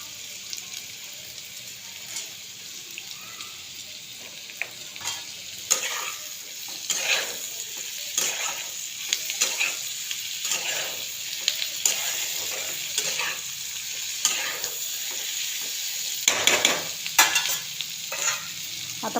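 Suran (elephant foot yam) curry cooking in a pan on low heat, a soft steady bubbling hiss broken by repeated scraping stirs, close and fairly quiet, with no voices.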